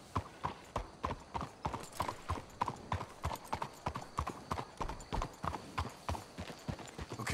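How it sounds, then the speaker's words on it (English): Steady clip-clop of horse hooves on a trail in the Red Dead Redemption 2 video game, several horses walking in an even rhythmic beat that carries through the whole stretch at moderate volume, with no talk over it. "Let's hitch your horses up ahead."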